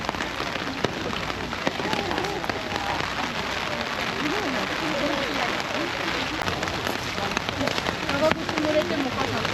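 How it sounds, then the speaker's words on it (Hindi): Heavy rain pours down on Miyajima Island, a dense, steady hiss of drops hitting surfaces outdoors, with faint voices now and then beneath it. "बारिश बड़ी तेज़ हो रही है अभी फ़िलहाल"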